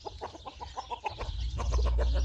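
Chickens cluck in quick, uneven bursts close by in a garden, with a low rumble of wind or handling noise building underneath toward the end.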